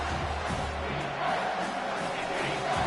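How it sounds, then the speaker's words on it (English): Stadium crowd noise from College Football 25 fills the scene, a dense, continuous roar with faint cheering swells and a commentator's voice mixed in. "this crowd is turning it up a notch"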